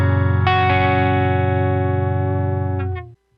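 Electric guitar played through a SansAmp pedal: a chord rings out, is struck again about half a second in, and sustains steadily for close to three seconds before a few light touches and a quick cutoff.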